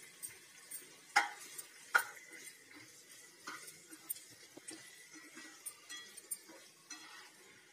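Mushroom and paneer pieces frying in oil make a faint, quiet sizzle, dotted with scattered taps and scrapes of a spatula against the pan, with no voices.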